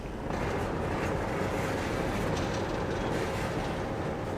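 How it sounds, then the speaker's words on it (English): A ballast train rumbles along the rail track near Rylstone Station, Australia, with a heavy, continuous low roar, close by and steady throughout. "the ballast train nears Rylstone Station"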